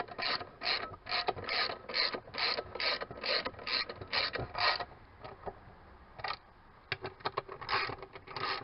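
Ratchet tightening bolts on a push mower engine: close, repeated clicking strokes in a steady rhythm, pausing briefly before a few more quicker clicks.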